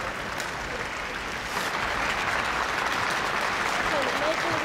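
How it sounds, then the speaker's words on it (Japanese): Large indoor audience applauding steadily at the All-Japan badminton championships after a women's doubles semifinal, a dense, continuous wash of clapping filling the hall throughout. "会場から大きな拍手。"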